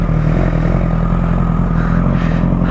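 A Honda CBR 1000RR Fireblade sport motorcycle engine starts and idles loudly up close, a steady throbbing rumble with slight rises in pitch.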